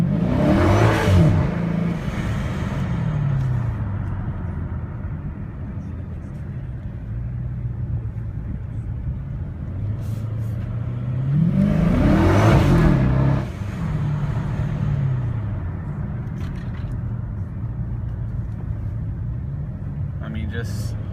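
Supercharged, modified 2014 Dodge Charger SRT8 cruising around town at normal pace, its deep engine rumble rising and falling through gear changes with one or two stronger surges, while someone talks over it.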